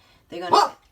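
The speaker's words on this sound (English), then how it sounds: "Sorry about my dog." A dog gives a single close bark, short and fairly loud, in an indoor room with quiet before and after.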